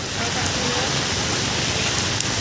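Steady outdoor rain in Dapoli, a dense even hiss of falling drops on surfaces, continuous and fairly loud throughout with no clear break.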